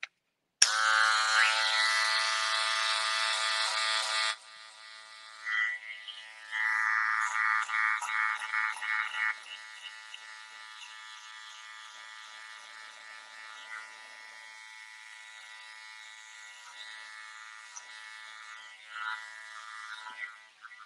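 Electric hair clippers with a number 3 guard debulking a men's textured haircut, a close steady buzz that shifts in pitch and strength as the blades move through hair, softening toward the end.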